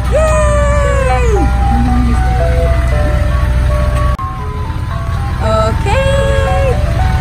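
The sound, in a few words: ice cream truck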